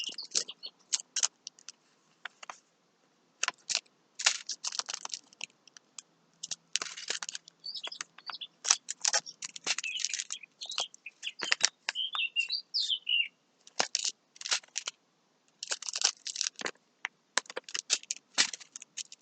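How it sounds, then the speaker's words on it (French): Small birds chirp in rapid, scattered bursts of high tweets, some near and some farther off, with brief pauses between flurries. "Je vous laisse écouter les petits oiseaux."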